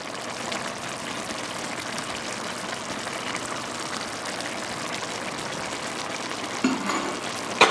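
Onions go into a pan while spinach fried rice with chicken is cooked, giving a steady broadband sizzle and crackle with faint stirring. It runs unbroken and moderately loud, and a sharper clatter comes near the end.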